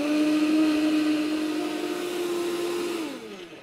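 Kitchen blender puréeing chestnut soup with the lid on, a steady loud motor whine that holds for about three seconds and then spins down, with no talking.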